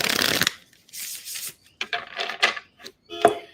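Tarot cards are shuffled by hand in several quick bursts of riffling and sliding, close up, with brief pauses and a light tap near the end.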